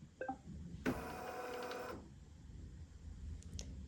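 A Bernina embroidery machine runs a quilting basting pass around a magnetic hoop, giving a steady buzzing whir for about a second after a few faint clicks, then falling quiet.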